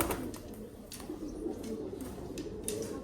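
Performing pigeons coo softly in the background with a few faint chirps, amid low ambient noise.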